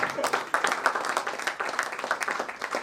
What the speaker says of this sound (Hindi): ताली और एक बार।